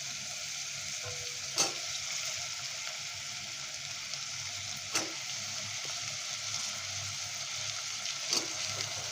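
Tomato, fresh field beans and potato frying in a pan, a soft continuous sizzle with three distinct clacks of a spoon stirring against the pan, spaced a few seconds apart.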